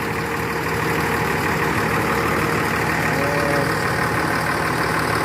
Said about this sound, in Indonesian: Mesinnya sudah hidup kembali teman-teman ya.